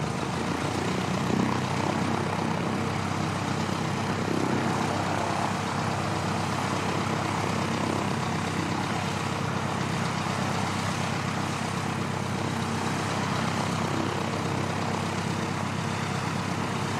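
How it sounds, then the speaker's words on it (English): A Boeing P-8 Poseidon passes near Christchurch Airport in New Zealand, its engines a loud, steady, broad roar that fills the whole stretch without easing. "I can just spot the Poseidon through the scaffolding to the south of me here"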